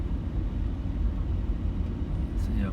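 Car rolling slowly through a grassy riverside campground at Bendeela, a steady low engine and tyre rumble heard from inside, continuous and fairly loud with no talk.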